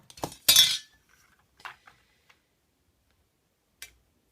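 Paper being cut to 13.5 cm for a die storage box: a bright crisp slicing burst near the start, then a few small clicks and taps, close and alone with no talk.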